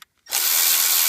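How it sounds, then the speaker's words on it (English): A power driver with a Torx 30 bit spins up to loosen a bolt on a Ford 7.3 Powerstroke diesel engine, starting abruptly after a brief click and running as a steady, close, loud whir. "So I just use my Torx 30 on here, and I'll loosen it up."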